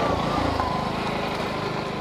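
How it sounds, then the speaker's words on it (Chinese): A booked motorcycle pulls up on Panglao Island in the Philippines, its small engine putting along in a steady, fairly close idle throughout. "我们预定的摩托车来"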